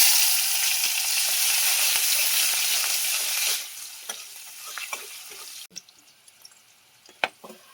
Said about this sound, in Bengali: ওই তেলের মধ্যে পেঁয়াজ বাটা দিয়ে দিলাম, রসুন বাটা, আদা বাটা, টমেটো কুচিগুলো দিয়ে দিলাম